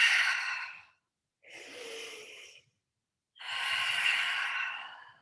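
Three long, breathy exhales and inhales during a yoga breathing exercise, heard close and alone, with airy rushing breaths separated by short silent pauses.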